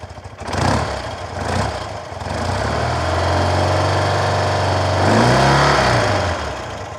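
An air-cooled BMW Airhead motorcycle engine idles steadily and loud at close range, with a brief blip of revs near the end before settling back to a low, even idle.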